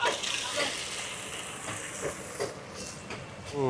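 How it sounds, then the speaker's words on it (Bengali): Chopped tomatoes frying in hot oil with golden onions at a brick-kiln cooking setup, a steady sizzling hiss with occasional stirring clatter, fairly loud and close. "এবার টমেটোকে ভালো করে ফ্রাই করে নেব"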